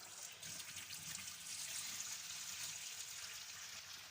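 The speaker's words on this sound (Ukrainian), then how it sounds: "Отак я промила декілька разів." Buckwheat rinsed under running water in a kitchen, a faint steady trickle and splash that continues for several seconds with no talking.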